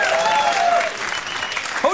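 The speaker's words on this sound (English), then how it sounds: "hold your applause, hold your applause." A television studio audience applauds loudly during a late-night monologue, the dense clapping carrying on evenly before tapering slightly near the end.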